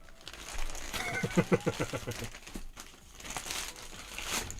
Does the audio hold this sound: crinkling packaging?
yes